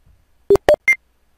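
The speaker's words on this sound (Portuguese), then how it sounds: "eu criei esse Roger Bip aqui" Three short custom Roger beep tones from a QYT CB-58 radio, each a brief clean tone stepping higher in pitch, quick and evenly spaced in silence.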